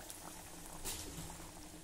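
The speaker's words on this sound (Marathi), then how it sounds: "मध्यम आचेवर आपल्याला हे वडे जरा तळायचे आहे।" Methi bajra vadas deep-frying in hot oil over a medium flame give off a steady, close sizzle with a soft bubbling wash. One brief louder hiss swells near the middle.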